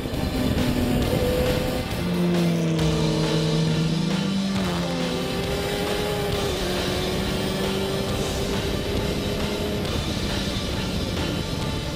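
A KTM X-Bow car and a Kawasaki ZX-10R motorcycle race on a track, their engines droning loudly and steadily, with pitch rising and falling as they accelerate and carry speed through the corners.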